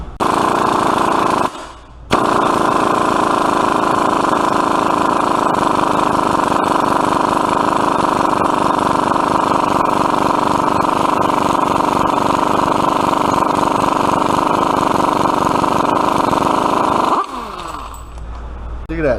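An impact gun hammers at a rusty wheel hub nut on a 2009 Chevy Impala during a wheel bearing job, a loud, sustained rapid rattle running for about fifteen seconds after a brief first burst.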